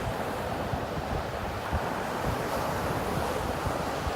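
Ocean surf rolls in beside the sea under steady wind, a dense continuous wash of breaking waves with wind buffeting the microphone, loud and close with no voices.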